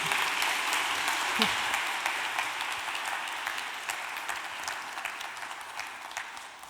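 Audience at a convention bureau afternoon event gives a round of applause, a dense clapping wash that starts strong and slowly tapers off over several seconds, heard close and without speech on top.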